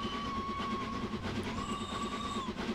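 A Flying Scotsman steam locomotive whistle sounds in Train Simulator 2021 on the Fife Circle Line, one sustained steady tone lasting nearly three seconds over the rumble of the running train.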